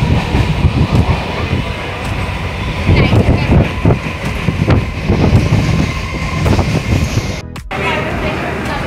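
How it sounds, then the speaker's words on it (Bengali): Darjeeling Mail passenger train under way, with a continuous loud rumble and rhythmic clacking of wheels over rail joints, and voices talking over it throughout. "ট্রেন ছেড়ে দিয়েছে"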